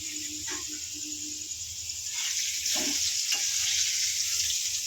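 Potatoes sizzle in a pan in a home kitchen, a constant bright hiss with faint stirring and a low murmur underneath, steady and close throughout.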